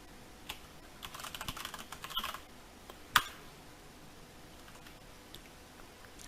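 Typing on a computer keyboard while entering a password in a Linux terminal, a light scatter of soft key clicks with one sharper, louder tap near the middle, heard close and alone.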